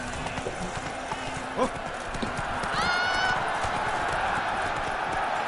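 Roach, the horse in The Witcher 3, gallops with a steady clip-clop of hooves under rumbling ambient game sound, while a voice briefly speaks and a tonal effect rises midway.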